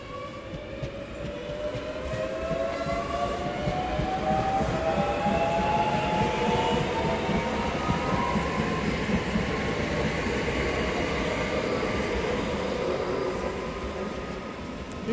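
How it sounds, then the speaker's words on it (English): A Class 365 electric train at Hitchin pulls away with a steady rumbling drone and rising motor whine, sounding unhealthy, continuous and fairly close, with no talking. "These 365s I've seen don't sound too healthy today."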